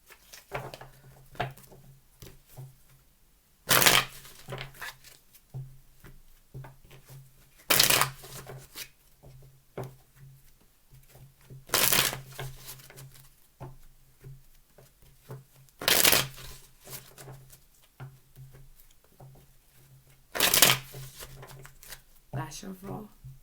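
Tarot cards are shuffled by hand in five sharp riffling bursts spaced a few seconds apart. Between them come softer handling rustles and a low steady background hum.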